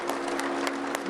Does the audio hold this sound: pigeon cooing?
no